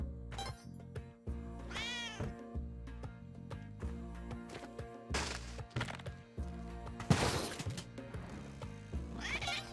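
A cat in the video game Spelunky 2 meows repeatedly, rising and falling cries with a slightly synthetic tone, over a busy background of thumps and clatter.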